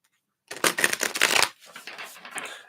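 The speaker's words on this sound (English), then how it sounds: "Let's shuffle these up." A quick riffle of tarot cards being shuffled, a crisp flutter followed by a softer, lighter bridging rustle.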